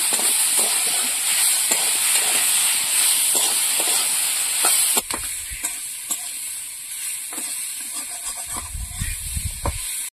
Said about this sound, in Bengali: সেদ্ধ করা ওল, তাও একটু ভালো করে কষিয়ে নেব।